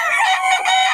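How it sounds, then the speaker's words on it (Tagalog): Chickens cluck and crow loudly and close by, several birds calling over one another in a short burst with no talking. "Daming manok ngayon dito."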